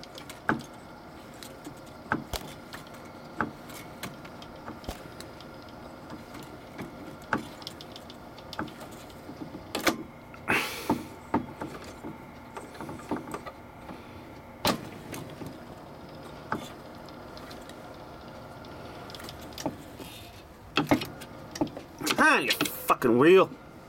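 A vintage Sony TC-350 reel-to-reel tape player whirs and rattles as it is coaxed into starting, with clicks and handling knocks before it finally runs at slow speed; a voice talks over the mechanism.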